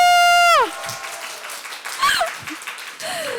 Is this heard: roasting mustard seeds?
no